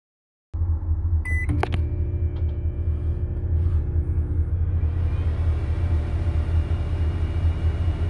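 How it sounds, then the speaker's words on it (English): Microwave oven running steadily for several seconds while a potato bakes inside, a loud constant low hum and rumble after a brief start beep, set in a DIY campervan powered by a 12V LiTime lithium battery solar system. "We're going to put in a potato and we're going to bake it here in the microwave."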